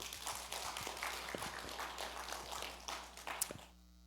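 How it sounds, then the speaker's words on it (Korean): Church congregation at a Sunday worship service clapping in thanks to God, a brisk, fairly quiet patter of hands with a few sharper claps, fading out toward the end. "우리 하나님께 감사 박수를 드리겠습니다."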